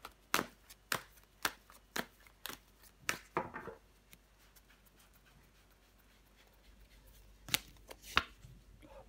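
Tarot cards are laid down one after another on a table, with a quick series of sharp slaps and taps at first, a quiet pause, then two more card placements near the end, close and fairly soft.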